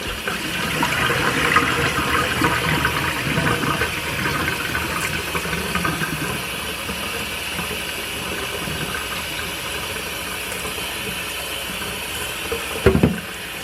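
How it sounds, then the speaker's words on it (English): Rinse water drained off rice pours and splashes steadily for a long stretch, a continuous rushing drain, with a brief clatter near the end. "I'm going to go ahead and drain that water off."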